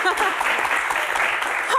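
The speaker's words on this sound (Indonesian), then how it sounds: "terima kasih tepuk tangan" A seated audience at a live Q&A session applauds briefly, a short dense burst of clapping with faint voices mixed in.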